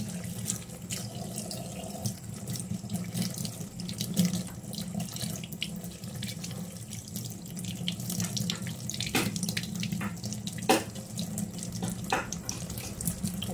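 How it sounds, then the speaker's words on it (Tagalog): Steady running water from a kitchen faucet while eggplant is prepared for tortang talong, a continuous broadband rush with small splashy spikes, close and alone with no talking. "Gagamit tayo ng running water guys."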